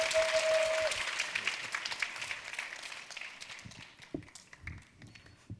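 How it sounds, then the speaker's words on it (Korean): Audience applause welcoming presenters at a 2016 youth and soldiers' security vision presentation contest, a dense clapping crowd that gradually thins and fades toward the end, leaving a few scattered claps. "큰 박수로 맞아주시기 바랍니다"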